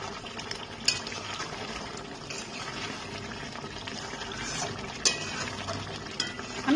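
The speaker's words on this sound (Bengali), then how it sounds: "চিকেনটাকে আমি কিছু সময় ধরে ভালো করে কষিয়ে নেব।" Chicken being stir-fried and stirred in a pan for chicken chaap, a continuous low sizzle with occasional scraping clinks of the spatula, close and moderately quiet, no voices.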